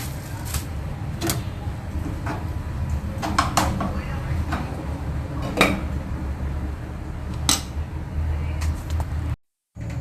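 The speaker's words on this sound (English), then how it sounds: "stir and cover" Metal pot and utensil clatter while stirring and covering a pot during cooking, with scattered clinks and a lid knock over a steady background hum and some indistinct voice.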